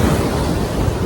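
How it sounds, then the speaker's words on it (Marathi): Powerful ocean surf crashes at a Goa beach, a loud, continuous roar of breaking waves close by, mixed with wind buffeting the microphone and no voices. "ओ माय गॉड कसले लाटा येतात यार."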